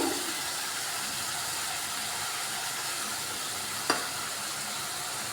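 Tomatoes fry in oil for a spicy tomato chutney, a steady hissing sizzle running throughout, with a single sharp spatula scrape near the end.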